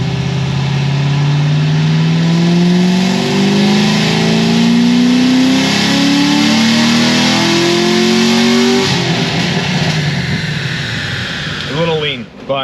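A 7.0-liter LS7 V8 engine revs on a dyno up to about 5,600 rpm, its loud rising roar climbing steadily for nine seconds before dropping into a rougher falling tone, with a voice briefly audible near the end.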